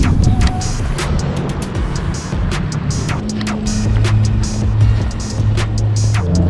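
Steady, loud rolling rumble of rollerblade wheels on pavement, a whooshing roar like a distant jet, with scattered clicks and a low hum throughout.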